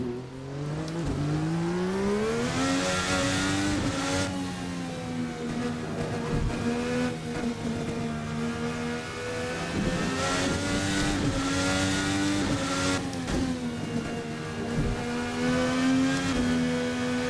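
A VRC Formula NA race car engine in a racing video game revs hard and steady up close, the pitch climbing and dropping through gear changes with occasional tire scrub, no talk.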